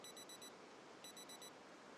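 Electronic alarm clock ringing inside a video game, high repeated beeping in two bursts of rapid pulses separated by a short gap, heard over a steady noisy background.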